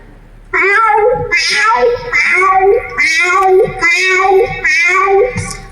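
A cat meows over and over in a series of drawn-out, wavering cries, loud and close, one after another with short pauses.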